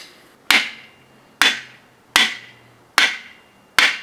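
Hammer striking tight cylinder head bolts on an Atlas five-cylinder engine during teardown, five sharp metallic blows spaced under a second apart, each ringing briefly, close up with no talking.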